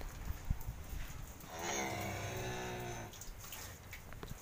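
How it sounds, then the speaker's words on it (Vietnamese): A cow on a cattle farm gives one long, loud, drawn-out moo over faint background farm noise. "Bò này nó bự không thua bò lỡ nhiêu chứ."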